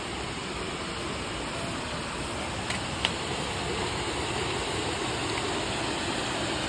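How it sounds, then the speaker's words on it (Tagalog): Swollen river after overnight rain, a strong current producing a steady, broadband rushing wash that stays even and close throughout, with one faint click midway. "Medyo malakas yung agos ng tubig ngayon kasi nga umulan kagabi"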